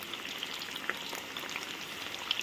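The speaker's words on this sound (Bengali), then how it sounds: "তো এইভাবে চিকেনগুলোকে চামচের মানে একটা ছোট চামচ পাতলা চামচ দিয়ে এইভাবে উল্টে উল্টে দেবো" Chicken pieces fry in hot oil while being turned over with a small, thin spoon, giving a brief, steady crackling sizzle with light pops, close and without voices.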